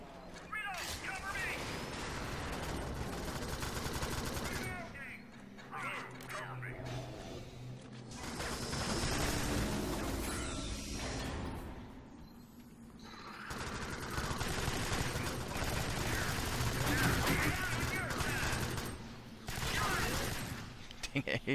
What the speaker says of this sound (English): You just unloaded half a clip into me.